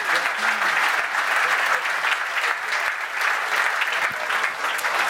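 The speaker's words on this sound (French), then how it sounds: "pendant que la foule jalouse vous applaudit" Sustained applause fills a conference hall during an IT services industry event, many hands clapping steadily and loudly for the whole stretch, with scattered voices murmuring underneath.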